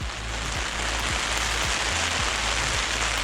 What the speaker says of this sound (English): Enjoying this rain, bud?